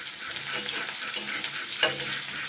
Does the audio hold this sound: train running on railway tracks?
no